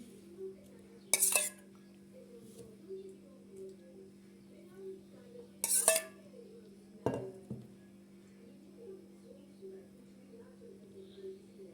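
A spoon spreads garlic yogurt over zucchini meze, with a few sharp clinks against a dish and soft scraping over a steady low hum in a quiet kitchen.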